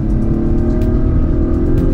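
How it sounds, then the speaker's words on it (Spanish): An Acura RDX's 2-litre turbo engine in Sport Plus mode, with a 10-speed automatic, sounds from close by as a loud, steady throaty drone with engine hum and no talk. "en ese momento sentimos que hay incluso una cierta nota del motor que suena como el Type R."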